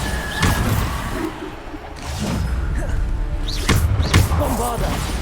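A Bombarda spell in the Hogwarts Legacy video game lands as a few heavy thumping blasts and crashes over a busy, rumbling game background.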